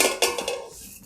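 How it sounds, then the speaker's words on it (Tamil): Metal lid set onto a cooking pot of simmering paneer butter masala, giving a few short clattering clanks close by, with a final light knock at the end. "மூடி போட்டு"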